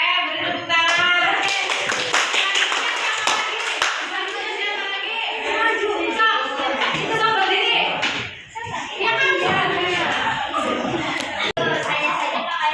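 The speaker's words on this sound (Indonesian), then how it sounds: "Oke, beri tepuk tangan." Students clapping their hands in a classroom, a steady burst of close claps from a group that runs for several seconds, with children's voices and chatter mixed in.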